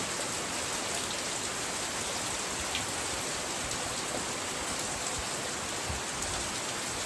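Heavy morning rain pours down on a farm, a dense, continuous hiss of drops pattering on surfaces, steady and unbroken, heard alone without voices.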